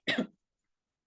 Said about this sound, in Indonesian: saya sedang batuk